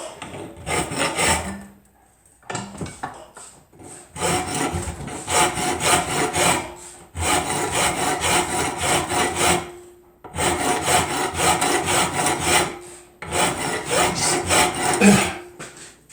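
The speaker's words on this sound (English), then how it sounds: "What I'm doing is I'm filing it down to cut lines." Close, loud rasping of a metal file worked back and forth on a steel chopper frame tube for a CB750 chopper, shaping cut lines, in long bursts of repeated strokes separated by brief pauses.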